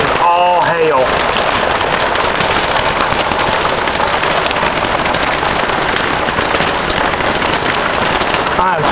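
Intense hailstorm with no rain, the worst seen in 26 years, hammering down as a loud, unbroken rattle of rapid impacts, nearly machine-gun-like, with a brief voice-like sound at the very start.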